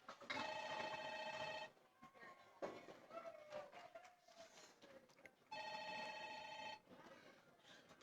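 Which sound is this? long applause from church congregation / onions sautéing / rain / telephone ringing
telephone ringing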